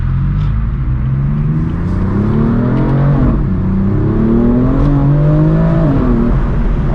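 A BMW M4 driven hard with stability and traction control switched off, heard from the cabin as a loud engine that revs up through the gears, pitch climbing and dropping at each shift over a constant rumble.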